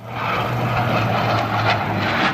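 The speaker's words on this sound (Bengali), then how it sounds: "MiG-29 যুদ্ধ বিমানটি বাহিনীর প্রধানকে সালামের মাধ্যমে মহড়ার কার্যক্রম শেষ করে।" A MiG-29 fighter jet passes overhead during an air force display. It makes a broad, steady roar that stays loud and unbroken throughout.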